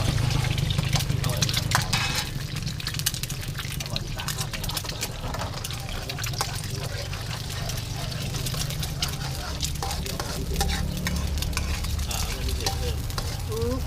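Eggs fry Burmese style in a pan, sizzling and crackling continuously while a utensil stirs and scrapes, with people talking over the cooking.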